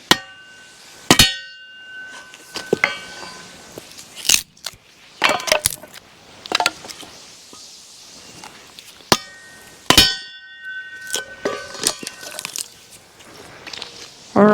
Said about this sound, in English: It really only takes one good blow if you're hitting it right.